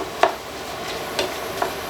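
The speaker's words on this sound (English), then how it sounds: "we'll give that another little mix with the mix and chop" Oyster sauce is stirred into browned ground beef with a mix-and-chop tool in a pan. Soft, steady scraping under a low hiss is broken by a few sharp clicks of the tool against the pan.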